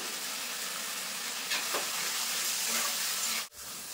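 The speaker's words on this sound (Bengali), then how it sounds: "ভেজে রাখা আলু কিন্তু মশলার ভিতরে দিয়ে দেবো, দিয়ে খুব সুন্দর করে কষিয়ে নেব" Fried potatoes sauté in a spice masala for Kashmiri aloo dum, a loud, continuous close sizzle with stirring scrapes, briefly cut short near the end.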